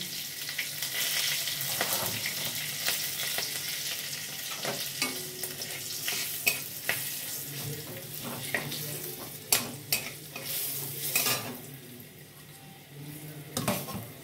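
Cumin seeds, a slit green chili and a little turmeric sizzle and crackle steadily in hot oil, with sharp stirring clinks and pan taps standing out, near and fairly loud.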